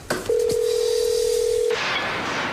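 A telephone line tone sounds on a call: a single steady electronic tone held for about a second and a half, loud and close, then cut off and followed by hiss.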